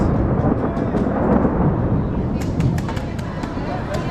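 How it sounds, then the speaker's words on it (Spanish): Thunder rolling over Quito, Ecuador: a dense, continuous low rumble with a crackling, rain-like hiss layered on top. It stays loud and close for the whole stretch, with no clear gaps. "suenan los truenos"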